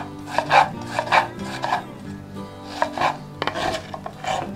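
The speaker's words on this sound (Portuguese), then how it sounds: "Para o tomate, eu aconselho uma faca de serra." A serrated knife saws through a tomato on a board, close rasping strokes in a quick back-and-forth rhythm, repeated several times with no talking.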